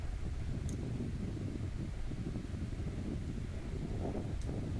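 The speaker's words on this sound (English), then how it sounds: "So this is the kind of wind we're dealing with here." Strong wind blows outdoors by a wet walkway, a steady loud rumbling roar buffeting the microphone without letup, with no talk.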